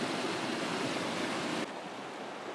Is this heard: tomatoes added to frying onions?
no